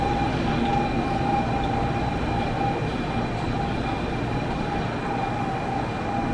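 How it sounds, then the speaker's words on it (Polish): Shinkansen bullet train at a station in Fukuoka, Japan: a steady, loud mechanical rumble with a constant electric whine and no pauses. "Tak tutaj wygląda tym razem z przodu ten Shinkansen"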